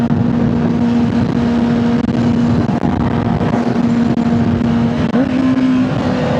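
A 2024 Honda CBR600RR sport bike engine runs loud and close, holding a steady high drone with a brief pitch rise near the end, with no talk over it.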